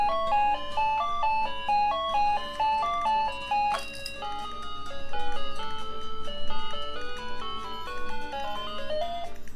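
An electronic Tokyo Mew Mew Lettuce castanets toy plays its built-in tune: a bright, beeping melody of quick notes, close and steady throughout, with a brief shimmering chime near the middle.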